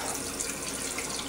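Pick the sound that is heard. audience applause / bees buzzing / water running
water running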